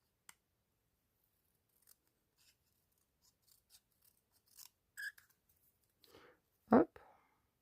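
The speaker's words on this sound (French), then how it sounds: "On coupe en biseau comme ça." Scissors snip paper at a bevel while a greeting card is made, giving scattered soft clicks and then a louder, close double cut near the end, with no voices.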